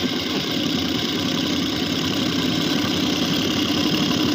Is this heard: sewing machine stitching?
yes